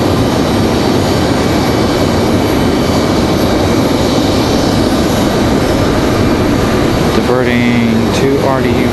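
Airbus A321neo airliner arriving at Raleigh-Durham from Detroit, a steady loud jet roar with a thin whine, joined near the end by a brief tonal sweep.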